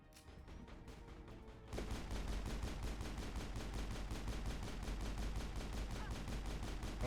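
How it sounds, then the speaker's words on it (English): Rapid automatic gunfire from Benezia in the video game Mass Effect, a dense sustained burst of loud, evenly spaced shots that starts after a short, quieter stretch of game noise. "I don't think I realized Benezia knew how to use a gun."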